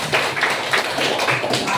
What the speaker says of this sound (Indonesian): Tepuk tangan dulu buat kelompok senang